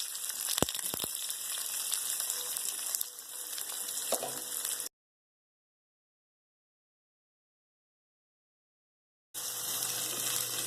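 Steady sizzling of chopped garlic and onion frying in hot olive oil, broken by a few sharp clicks, then a long silence before the crackle resumes.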